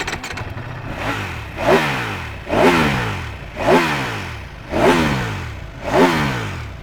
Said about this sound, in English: So can you rev up your bike?